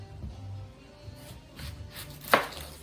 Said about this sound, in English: I'm gonna cut my Vidalia onion now